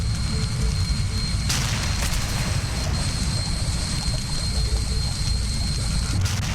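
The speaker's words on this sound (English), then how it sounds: "and then the plane explodes" An aircraft blows up in the video game Stranded Deep, heard as a sustained low roaring rumble with sharp bursts of noise layered over a constant wash, a faint steady tone running through the blast.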